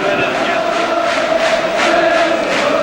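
Football crowd murmuring steadily in the sunshine before kick-off of the new season at Orient's ground, a continuous broad wash of many voices with no distinct cheers.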